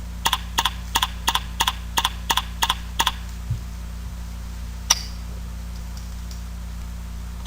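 Typing on a computer keyboard during a WordPress setup, about a dozen crisp keystrokes in a quick, even run over the first three seconds, then a faint thump and a single sharp click, close and clear over a steady hum.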